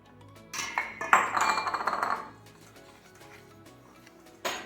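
A whisk beats flour, baking soda, sugar and salt in a bowl: a few taps, then about a second of rapid, close metallic clinking strokes. After a quiet stretch comes one more sharp clink.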